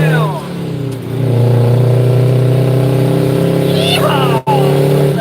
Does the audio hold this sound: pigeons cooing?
no